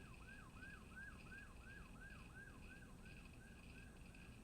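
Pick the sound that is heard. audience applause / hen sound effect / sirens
sirens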